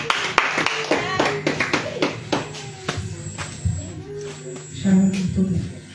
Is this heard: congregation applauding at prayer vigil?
yes